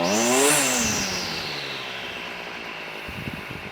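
A small two-stroke strimmer engine, freshly carburetor-tuned, winds down from a high, close whine and settles into a steady, even idle with a faint rhythmic sputter.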